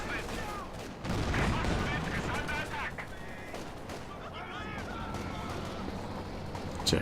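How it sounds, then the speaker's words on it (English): Stuka dive-bomber barrage in Company of Heroes 2, a dense, continuous rumble of artillery blasts and gunfire filling the whole stretch at steady loudness, with battle noise layered throughout. "Tasty Stuka barrages here"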